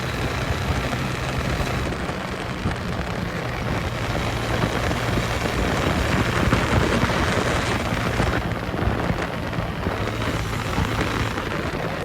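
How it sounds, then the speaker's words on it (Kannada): Heavy rain pours down in a dense, unbroken roar on the way to Talakaveri, Madikeri, loud and close, with no voices heard. "ಇವಾಗ ಜೋರು ಮಳೆ ಬರ್ತಾ ಉಂಟು"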